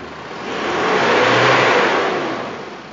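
A diesel pickup truck engine revs once, the roar swelling over a second or so and easing back down across three seconds, loud and close, with no one talking.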